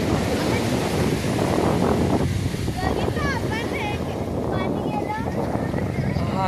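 Sea waves at Vengurla's Sagareshwar beach make a steady roar of surf and wind buffeting, loud and continuous, with faint voices and birdlike calls drifting over the wash.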